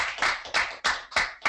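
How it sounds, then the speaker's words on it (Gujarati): Clapping to congratulate Nilesh at a campers' reflection gathering, about five short bursts of hand claps in an uneven rhythm, close and fairly loud with no voices. "તને તાળીઓથી અભિનંદન"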